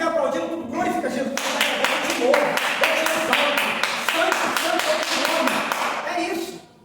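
Congregation clapping in steady rhythm during worship at an evangelical church service, loud and close, with singing or voices over the beat throughout before it fades at the end.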